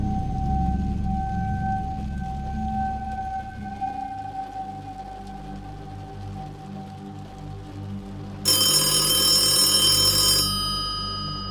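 A telephone in a shop rings once, a bright electronic trill lasting a couple of seconds after a low droning background with faint tones.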